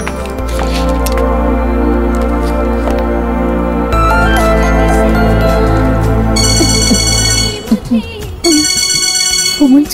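A phone ringtone for an incoming call plays loud and close as a repeating electronic melody, broken up by short pauses near the end, with no voices over it.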